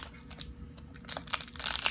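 Crinkly plastic packaging of a Disney Doorables toy surprise is handled and pulled open, with scattered rustles growing louder and denser toward the end.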